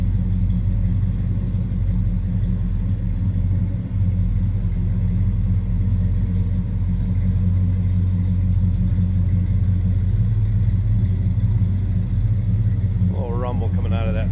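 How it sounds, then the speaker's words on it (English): A 1966 Chevrolet Chevelle SS two-door hardtop's big block engine idles with a deep, steady rumble and throaty exhaust, close and continuous, with someone talking over it. "A little rumble coming out of that big block."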